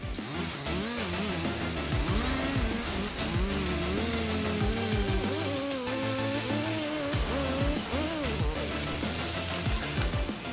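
Heavy-duty Husqvarna 572XP chainsaw cutting down giant trees, its engine droning steadily loud with wavering pitch as it revs and bogs through the wood, running continuously without pause.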